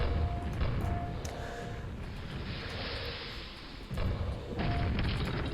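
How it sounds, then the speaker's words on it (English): Grenade launcher explosions in the game Arcane Dimensions 1.70, a lava tomb level, rumble as repeated deep booms and thuds over a constant low roar, loud and close. "get the grenade launcher out and just start spamming"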